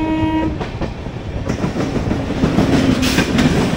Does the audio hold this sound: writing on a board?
no